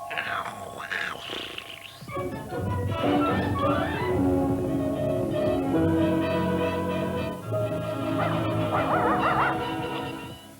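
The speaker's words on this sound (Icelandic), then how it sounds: "Það er hundurinn." A dog in an Icelandic Tintin radio drama set in the dark Moon mountains barks and whimpers close up, yipping and whining in uneven bursts over a steady tonal background.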